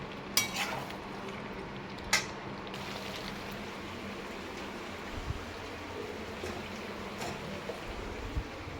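A spiced dish for fried rice being stirred and cooked down in oil in a pan, giving a faint, steady low sizzle with a few scattered scrapes and clinks of the spoon, with no one talking.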